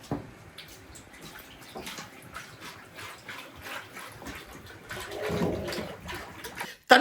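Water poured into a bowl of ola pakoda batter, with soft wet splashing and stirring sounds and a brief louder gush of pouring near the end.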